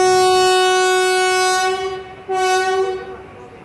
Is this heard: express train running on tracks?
yes